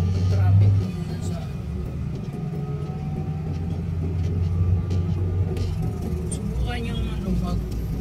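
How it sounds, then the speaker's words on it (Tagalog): Road traffic rumbles from inside a car stuck in a jam near a toll gate, a low steady engine drone with a brief louder swell at the start and people talking over it. "Traffic na naman dito."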